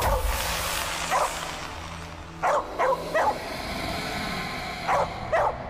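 Dog barking in short separate yips and barks, several spaced single and double barks at moderate distance over a low background hum, with no talking.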